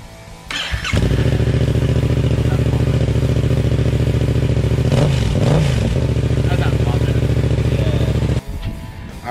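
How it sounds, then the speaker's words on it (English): A Yamaha MT-07 motorcycle with a dB killer installed in the exhaust idles loudly and steadily with a muffled, throbbing note and a brief blip of revving midway, close by. "we're going to hear what it sounds like with the DB Killer in."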